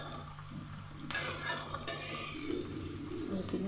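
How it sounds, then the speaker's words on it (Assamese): Onions fry in mustard oil in a kadai, giving a soft, steady sizzle broken by the scrape and clink of a spoon stirring against the metal pan. "মই কেৰাহী বহাইছোঁ পিঁয়াজ অলপ ভাজি ল'ম পিঁয়াজখিনি ভাজি ল'লোঁ ইয়াতে মিঠাতেল দিছোঁ"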